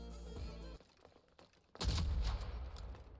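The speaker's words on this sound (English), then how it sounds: "Sniper shot is on, bro." A sniper rifle shot in the online shooter Rogue Company booms out as a loud, sudden blast, followed by a sustained rumbling burst of gunfire and explosion noise, after a quieter stretch of game audio.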